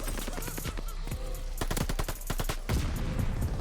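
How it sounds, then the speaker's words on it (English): MP40 submachine gun fire in Call of Duty: Vanguard, heard as several rapid bursts of shots with short pauses between them, sharp and close over steady game background noise. "See, I'm shooting at random stuff in this game."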